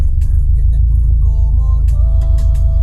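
A 2018 Subaru STI revs under load during a virtual dyno pull, a heavy, steady low engine rumble close and loud throughout, with faint high tones and clicks above it.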